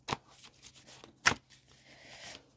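Tarot cards are shuffled and one is pulled from the deck, heard as faint, brief riffles and snaps: a sharp flick near the start and another in the middle, with soft rustling between them in a quiet room.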